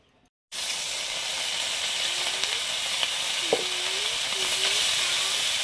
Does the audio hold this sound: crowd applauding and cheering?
no